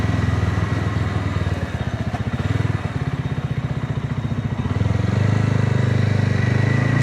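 BSA Bantam 350 motorcycle being ridden, its engine a steady close throbbing drone with a rhythmic pulsing beat that rises slightly toward the end, no talking.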